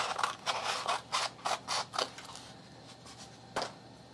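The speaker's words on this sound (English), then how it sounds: "And what I do is I cut them in smaller pieces, about like that." Scissors cut 320 grit sandpaper into small strips, a series of short, crisp rasping snips in quick rhythm, then a pause and one final cut, close and fairly quiet.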